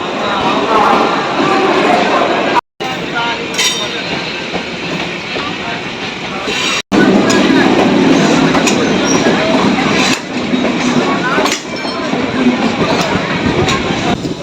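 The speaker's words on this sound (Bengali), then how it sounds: "হাওড়া থেকে রওনা দিল আমাদের ট্রেন" A train departing Howrah station rumbles loudly and steadily with rhythmic clickety-clack of wheels on rails, continuous throughout with two brief dropouts.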